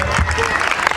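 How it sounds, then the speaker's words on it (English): A crowd of primary school children clapping for a birthday girl at a school in Savanna la Mar, Westmoreland, loud and close with continuous dense applause and voices mingled through it. "Clap her, clap her."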